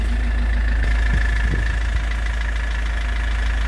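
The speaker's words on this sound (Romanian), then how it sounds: "Și mai avem aici tractorul care merge așa." A tractor engine idles steadily and loudly nearby, a deep continuous low rumble with a faint mechanical knock and no one talking.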